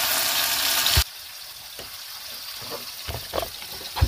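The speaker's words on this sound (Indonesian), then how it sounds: "Sambalnya kita goreng, teman-teman." Sambal chili paste frying in a pan in a home kitchen, starting with a loud, dense sizzle for about a second, then settling into a quieter crackle broken by a few soft clinks and stirring knocks.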